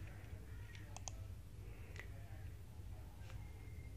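Computer mouse clicks while a dashboard button is selected: a few sharp, faint clicks spaced over a few seconds, including a quick double click, over steady low background hum.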